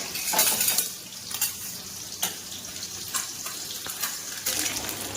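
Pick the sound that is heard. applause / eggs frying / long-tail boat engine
eggs frying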